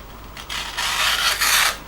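A freshly sharpened knife slices a corner off a sheet of paper, giving a close, dry rasping swish in a couple of quick strokes with no talk.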